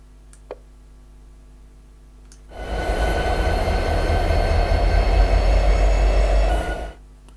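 A diesel train in Train Simulator 2016 rumbles past after a quiet idle hum, a loud steady roll of engine and wheels lasting about four seconds before cutting off abruptly.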